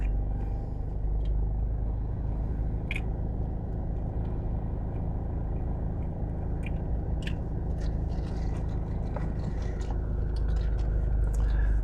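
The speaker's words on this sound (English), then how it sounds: "I'm not sure where all this traffic is coming from." Steady traffic rumble from cars moving through a busy shopping center parking area in the Caribbean, a continuous low drone with occasional brief clicks and knocks, fairly close and without talk.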